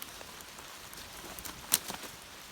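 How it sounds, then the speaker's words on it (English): Heavy rain falling in dense mountain forest, a steady soft hiss of drops on leaves and ground with a brief sharper patter near the middle, fairly faint and even throughout, no voices. "It just started to rain a little while ago, like really heavily."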